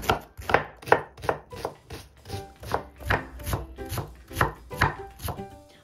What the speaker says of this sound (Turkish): hemen bir orta boy soğanı hızlıca soyuyoruz ve ince ince küp küp yemeklik doğruyoruz